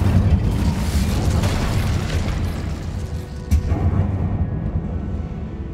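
An Incendio fire spell blasts in Hogwarts Legacy as a loud, sustained roaring rumble with a sharp burst partway through, the fiery wash fading slightly toward the end.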